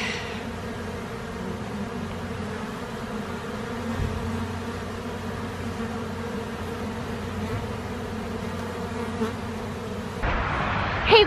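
Bees buzzing in a steady, continuous drone that holds for the whole stretch, fairly close, with a brief louder rustle at the very end and no talking.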